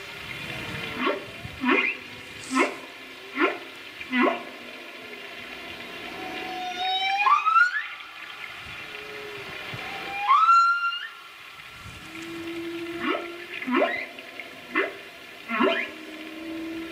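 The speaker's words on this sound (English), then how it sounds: "That's the humpback whale." Series of low, moaning humpback whale calls and rising swooping cries in sequence, separated by short pauses, with a steady background hum.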